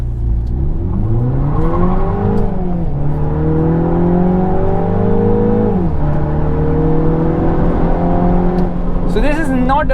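A Mini car engine revs hard while driving through corners, its pitch climbing and dropping in smooth sweeps as it accelerates and eases off, loud and close throughout.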